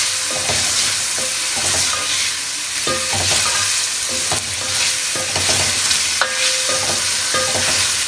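Chicken frying in a pot while being stirred, with steady sizzling and repeated scraping strokes, close and loud with no talking.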